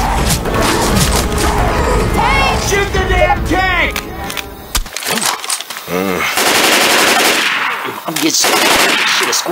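Heavy automatic gunfire from the players in Left 4 Dead 2 pours into the Tank, loud and continuous for the first half, then bursts resume amid shouted voices and game noise.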